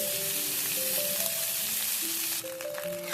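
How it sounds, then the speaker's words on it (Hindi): Leftover rice goes into a hot frying pan with sautéed ingredients for South Indian lemon rice and is stirred, giving a loud, continuous close sizzle with scraping stirring sounds and a brief shift near the end. "अब हम इसमें बचे हुए चावल ऐड कर देंगे"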